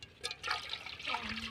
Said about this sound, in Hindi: अब इसके पहले पहले जो है ना इसमें डालना है 2 गिलास पानी के